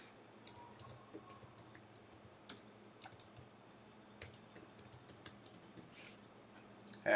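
Brisk clicking of a computer keyboard as a new password is typed, with quick irregular bursts of keystrokes and short pauses, close and fairly quiet with no voices.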